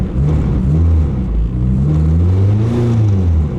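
A K24-swapped Nissan Cefiro engine revs hard and steadily, its loud droning note rising and falling in pitch as the throttle is worked, close to the car and with no one talking.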